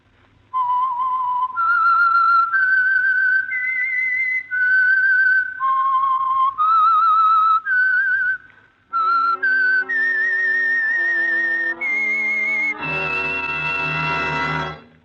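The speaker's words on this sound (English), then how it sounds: "the signal to listen for is this whistle that identifies The Whistler." A signature whistled tune for The Whistler radio mystery show, a clear solo melody of sustained, gliding notes in phrases, ending on a fuller, richer sustained chord-like tone.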